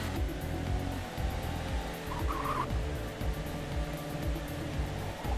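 Race car engines in the racing management game Trackday Manager, a continuous layered drone of revving motors with rhythmic gear-shift pulses and a brief tire squeal, moderately loud with no talk.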